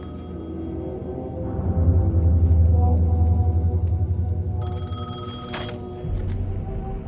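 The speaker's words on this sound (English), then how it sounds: "phone was ringing. Somehow I knew the call was for me." Old telephone bell ringing in the video game Alan Wake, a repeated metallic ring over a low ambient hum and drone, with a brief higher electronic tone cutting in near the end.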